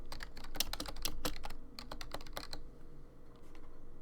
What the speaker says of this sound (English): All right, let's type this in.